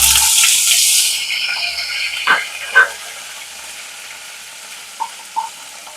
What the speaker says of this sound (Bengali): এখানে আমি দিয়ে দিচ্ছি আদা বাটা, 1 চামচ আদা বাটা।